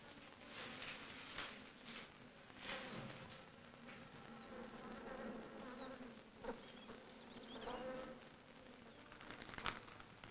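Wasps buzzing in a cool, sheltered spot, a faint continuous hum with brief louder passes as insects fly close, against quiet background noise.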